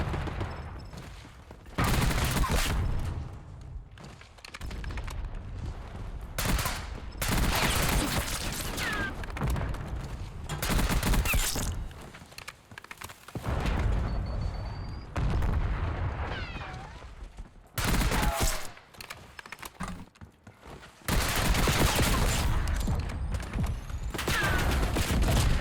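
Rapid automatic gunfire in Black Ops 6 comes in loud, dense bursts separated by short pauses, with mechanical weapon clatter between volleys.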